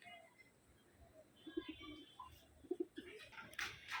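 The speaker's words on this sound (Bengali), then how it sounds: "এই যে কবুতর অনেক কবুতর আছে" Soft pigeon coos come in a few short bursts against quiet background, faint and nearby.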